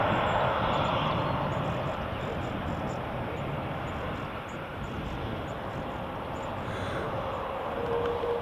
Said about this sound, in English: Got a KLM from Amsterdam on the approach now. 737-800.